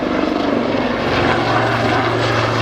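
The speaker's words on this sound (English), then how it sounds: "The aircraft are approaching each other head to head at a closing speed of approximately 220 miles an hour." Loud, steady roar of aircraft engines with a throbbing propeller drone as aircraft fly at the Duxford Autumn Airshow, close and continuous throughout with no voices.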